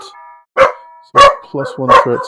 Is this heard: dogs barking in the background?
yes